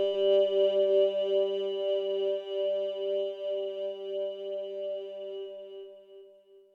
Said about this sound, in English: Wavetable 2 uses the same Hyperwave as the Wavetable 1 example, but I set up different voices with modulations.